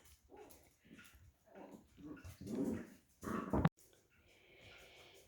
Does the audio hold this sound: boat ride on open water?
no